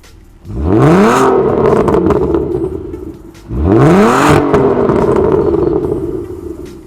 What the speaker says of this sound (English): Why would you need to upgrade the exhaust when it sounds like this?